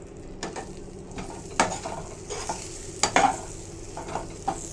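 Eggplant pieces fry in oil for a Marathwada-style khar wang and are turned over in the pan: a continuous sizzle broken by several sharp scraping clacks and stirring knocks, with no voices.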